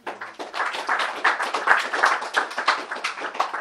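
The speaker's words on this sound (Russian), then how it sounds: "Давайте похлопаем." A church congregation applauding after the pastor's sermon, a steady wash of many hands clapping, fairly loud and close, continuing evenly without voices.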